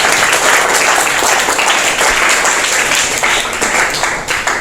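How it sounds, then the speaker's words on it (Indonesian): Classroom applause for a student group, many hands clapping together in a dense, steady burst lasting several seconds, close and fairly loud. "Beri tepuk tangan untuk kelompok 1."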